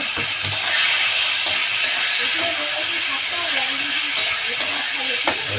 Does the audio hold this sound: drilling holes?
no